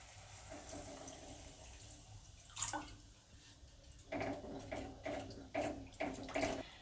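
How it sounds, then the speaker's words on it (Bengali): Water pours into cooked-down curry masala in a pan, a quiet splashing gush that comes in several uneven bursts, close by. "এইবারে পরিমাণ মতো জল দিয়ে দেবো।"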